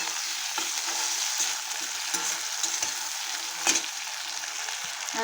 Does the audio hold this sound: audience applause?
no